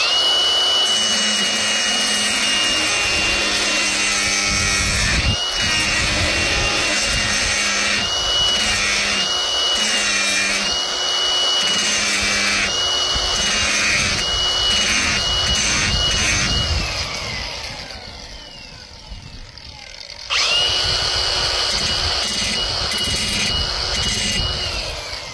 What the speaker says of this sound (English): I'm gonna bring out my big ass grinder and try not to grind away the whole arm.